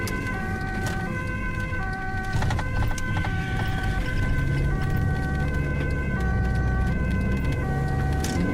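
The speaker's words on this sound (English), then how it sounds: "sirens on immediately" A European ambulance siren wails continuously and loudly nearby, its alternating tones cycling over a steady engine hum.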